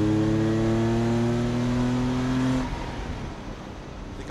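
A Jaguar XJ220 engine revs hard with a rising tonal roar, then lets off as the sound drops into a rougher, quieter rumble.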